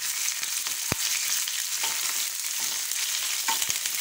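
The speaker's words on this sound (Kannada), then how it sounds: "ಈರುಳ್ಳಿ ಸ್ವಲ್ಪ ಬಾಡಿದ ಮೇಲೆ ಅಲ್ಲಿವರೆಗೂ ಫ್ರೈ ಮಾಡ್ಕೋಬೇಕು" Onions and curry leaves frying in a pan, a continuous bright sizzle with occasional sharp taps of a utensil against the pan, heard alone.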